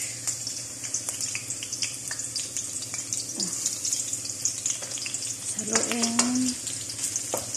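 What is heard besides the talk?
onion frying in cooking oil for menudo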